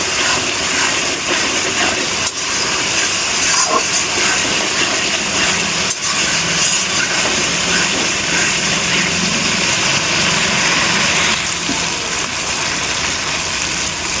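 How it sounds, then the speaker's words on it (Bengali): Spice paste for an eggplant and tilapia curry sizzles steadily in a pan after a little water is added, a loud, continuous hissing fry with no talk over it. "যখন সামান্য জল অ্যাড করে মশলাটাকে আমি কষিয়ে নেব।"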